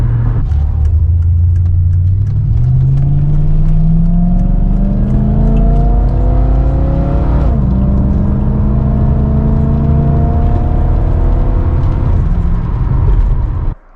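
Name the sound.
loud V8 Mercedes engine with baffled exhaust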